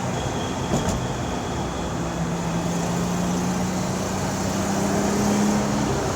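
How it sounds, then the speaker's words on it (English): A 1976 Datsun 280Z with a 5-speed manual transmission drives along, its engine a steady droning hum heard from inside the cabin. The pitch climbs gradually as it accelerates, with a brief clunk early on. "Shifting into third, going over some bumps right now."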